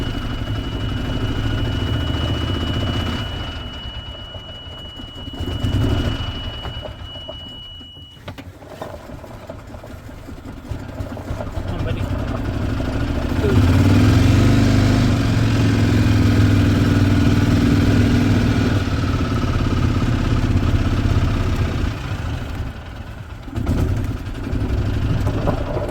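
A 2010 Yamaha Drive G29 gas golf cart engine runs at a low, steady idle that rises and falls over a long stretch, with handling noises nearby.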